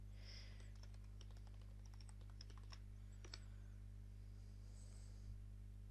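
Keys click on a computer keyboard as a login email and password are typed: scattered light taps and short bursts, close but faint, over a constant low electrical hum with no voices.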